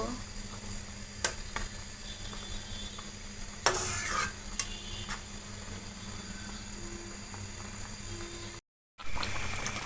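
A spoon stirs hilsa fish with chillies in a cooking pan, giving soft scraping strokes and a brief clatter over a steady low sizzle, with a short silent gap near the end.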